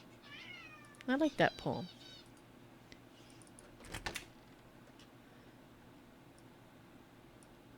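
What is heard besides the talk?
cat meowing in the room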